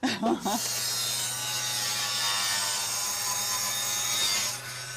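A machine cuts material for handmade jewellery, starting with a few short rough bursts and then settling into a steady, loud, close whine with an even grinding hiss that fades out near the end.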